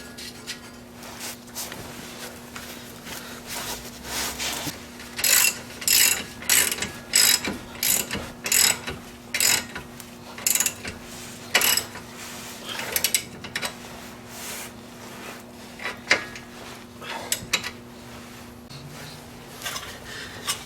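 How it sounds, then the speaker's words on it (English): A ratchet clicks in repeated quick bursts of strokes while tightening the lower ball joint securing nut on a Honda Civic 1.7 EL front suspension, close and fairly loud over a steady background hum, with pauses between runs. "And then reinstall the lower ball joint securing nut."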